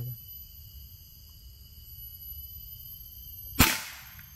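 A single sharp air rifle shot cracks out near the end, close and loud, over a quiet background with a steady high-pitched hum.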